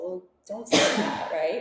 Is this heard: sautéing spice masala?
no